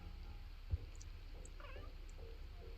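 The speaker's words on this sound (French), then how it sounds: "notre chat s'appelle Herman, on l'a adopté au refuge" A cat meows in The Sims 4 at a veterinarian's home in Brindelton Bay, a brief soft mew over a steady low background hum, followed by faint chirping tones, no speech.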